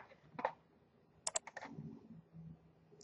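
A few quick key presses on a computer keyboard, a Ctrl-C copy shortcut: a handful of sharp, faint, close clicks in a short irregular burst, heard alone.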